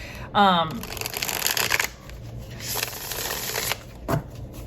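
A tarot card deck riffled and shuffled in several bursts, crisp papery flutters with a snap, close up, with brief pauses between.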